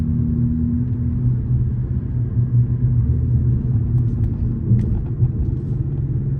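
Dodge Challenger SXT Plus engine rumbling in traffic, a loud, steady low drone heard from inside the car, holding an even pitch with slight wavering and no talking.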